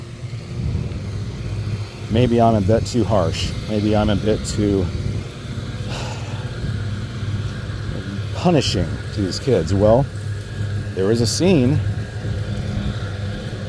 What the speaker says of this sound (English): I apologize for the lawnmower noise back there